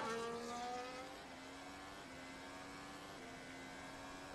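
A Williams FW47 Formula 1 car drives on track, its high engine whine stepping up through gears in a series of rising sweeps, heard faintly from a distance.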